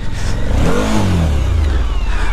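A Suzuki V-Strom 1050 DE adventure motorcycle on trail tyres revs loudly and close, its engine note rising and then falling away in a single surge, with no voices.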